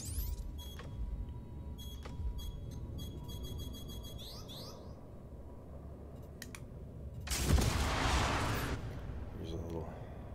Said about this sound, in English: Here come the missiles.